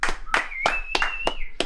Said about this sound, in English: Can we get an applause, Andre?